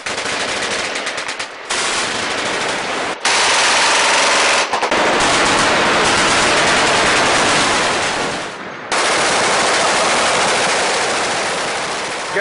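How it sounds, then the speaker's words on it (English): Fully automatic machine guns roar in long, loud, unbroken bursts at a shooting range where enthusiasts gather, broken by a few brief gaps between strings of fire. "So machine gun enthusiasts get together here to fire off basically about"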